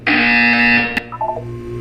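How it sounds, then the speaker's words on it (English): A loud, harsh electronic buzzer from the video game Portal 2 sounds once for under a second, followed by a quieter chime-like tone over a steady low hum. "You will hear a buzzer."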